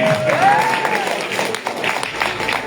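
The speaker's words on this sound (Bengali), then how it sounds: "করতালি ওনাদের জন্য।" Brief applause breaks out from an audience at a business event stage honoring a couple, with a short whistle-like tone at the start, fairly loud and close.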